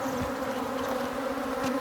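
Dense, continuous buzzing of an agitated, aggressive honeybee swarm right at the hive, loud and close throughout with no talking.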